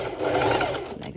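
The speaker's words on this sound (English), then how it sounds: "I will be doing the other straight stitch over my lining fabric" A sewing machine runs a straight stitch over bikini lining fabric in one brief, steady motorized whir with a rapid needle chatter, fairly close and without talk.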